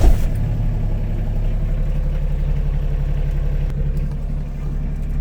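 A Kioti CS 2530 compact tractor's engine idles, heard from inside the cab as a steady, low, moderately loud rumble with an even pulse, no talk.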